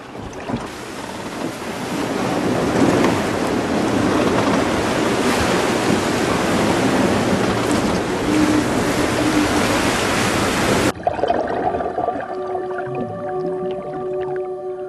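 Open ocean waves wash and slosh steadily around a balsa log raft at sea, with wind buffeting the microphone, a continuous loud surge that gives way to a quieter, calmer stretch near the end.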